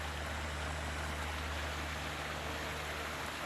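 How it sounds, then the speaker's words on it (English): Mountain stream water flowing steadily along a fall hiking trail, a continuous broadband rushing and gurgling that stays close and even throughout with no voices. "Hear the water?"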